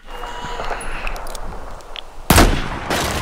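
Sniper rifle fire in Battlefield 4, a loud close shot followed by a sustained boom, coming after a stretch of game ambience.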